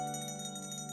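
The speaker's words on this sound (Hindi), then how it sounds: "बजाओ घंटी घंटी लाल" A single bell rings with a sustained, bright metallic tone that holds and shimmers for about a second, fairly quiet and alone.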